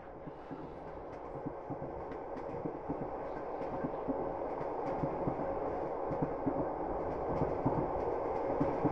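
A video game train rolls steadily along its rails with a continuous low rumble and faint rhythmic clatter. The noise stays even throughout and grows slightly louder toward the end, with no voices.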